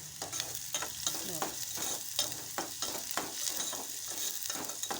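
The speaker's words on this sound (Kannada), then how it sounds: "ಉಳ್ಳಾಗಡ್ಡಿ ಕೆಂಪಾಗೋ ಮಟ್ಟ ಬಿಡ್ಬೇಕು" Onions fry in oil over high gas heat until reddish, a steady close sizzle broken by regular scraping stirs of a spoon through the pan, with no voices.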